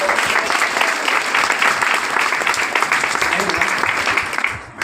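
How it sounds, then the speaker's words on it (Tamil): Audience applause at a direct-selling company leaders' event in a hall, dense steady clapping filling the whole stretch at close range, easing off slightly at the very end. "அவங்களுக்கு ஒரு பலத்த பாராட்டு கொடுங்களேன்"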